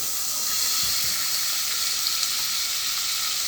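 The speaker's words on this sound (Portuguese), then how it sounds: "derreter manteiga." Butter melting in a pan before minced garlic is added, giving a steady, even sizzle with a soft continuous hiss and no talking.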